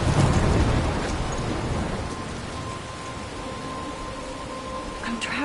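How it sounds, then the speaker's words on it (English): A thunderstorm in the video game Life is Strange, a rumble of thunder at the start fading into steady rain and wind noise, with a faint tone running through it. "I'm trapped in a storm?"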